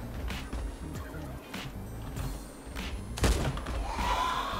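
Dragunov sniper rifle shots in the Last Day on Earth video game: several sharp, spaced reports with a heavier impact near the end, over faint game ambience.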